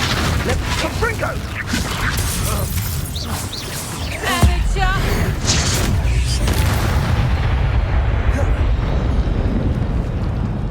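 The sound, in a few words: Confringo fire explosion spell in the video game Hogwarts Legacy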